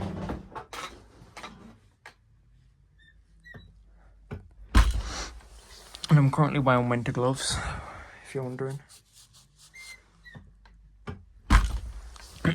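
An Arrow 303 door closer swings a bedroom door shut with hydraulic creaks and a firm latching thunk, heard close, while someone talks intermittently over it.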